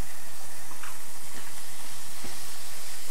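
Cauliflower sizzles and hisses in a hot pan with garlic, a steady bright frying crackle with occasional soft scrapes of stirring.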